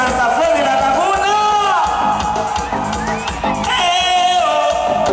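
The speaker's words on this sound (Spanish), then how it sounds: "Y como grita toda la gente de Santa Fe de la Laguna." Live concert audience in Santa Fe de la Laguna shouting, whooping and cheering at a regional Mexican music performance, loud and continuous with rising whistles and yells throughout, close and dense.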